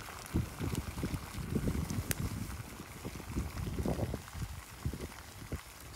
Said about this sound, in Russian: Все, друзья, чайник закипел.